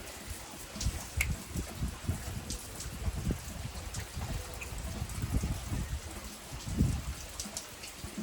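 Rain falls on a farm in the evening, a faint, steady patter with scattered louder drops hitting surfaces close by, no voices over it.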